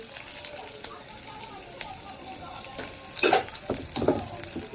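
Chopped onion dropped into hot oil in a wok sizzles and crackles, a steady frying hiss with a few louder bursts of spattering near the end, close by.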